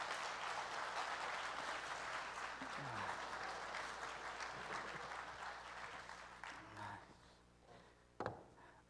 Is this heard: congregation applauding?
yes